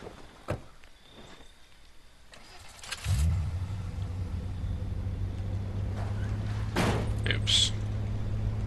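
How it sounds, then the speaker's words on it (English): Car engine in the zombie survival video game State of Decay starts around the three-second mark and then holds a steady, fairly loud mid-low drone while driving, with a few brief clicks and bangs on top. "let's use a car, seeing as how it's daytime"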